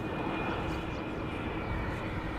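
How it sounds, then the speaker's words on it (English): A KLM Embraer 175 airliner approaching to land at Amsterdam Schiphol, its engine noise a steady, broad roar that holds at an even level throughout. "an Embraer 175 is coming in"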